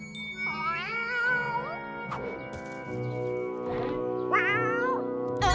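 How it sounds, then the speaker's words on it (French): A small cartoon cat gives several rising and falling meows, close and clear, with a bright jingling accent between them over a soft musical background. "C'est juste un petit chat."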